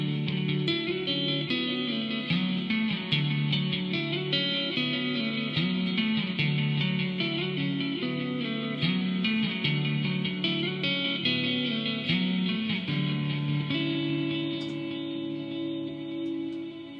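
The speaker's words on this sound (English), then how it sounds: "I got that stereo delay going on" An electric guitar plays through a stereo delay pedal on a pedalboard. Sustained, ringing chords and notes echo and smear into one another, steady and fairly loud throughout, with no voices.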